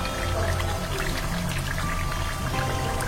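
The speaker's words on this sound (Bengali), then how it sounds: "সেই পেঁয়াজ কুচিগুলো দিয়ে দেবো।" Chopped onions drop into hot oil in a pot of Bangladeshi-style beef curry, giving a steady, fairly quiet crackling sizzle that runs the whole time with no voices.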